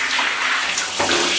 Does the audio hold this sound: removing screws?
no